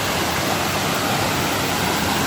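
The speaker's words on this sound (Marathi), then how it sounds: "धबधबो." Steady broadband roar of the Brahman Dev waterfall, a constant dense rush of falling water with no break, loud and close throughout.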